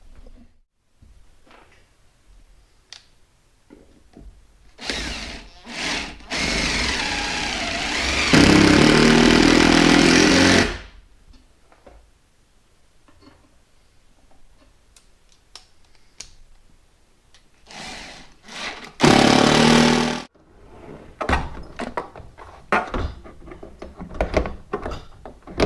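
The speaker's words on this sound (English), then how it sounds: "we're going to go ahead and lag in some bolts right into this bracket" Power drill driving lag bolts into a combi boiler's wall mounting bracket, two loud sustained bursts of whirring, one about five seconds long and a shorter one later, between quiet handling clicks and knocks.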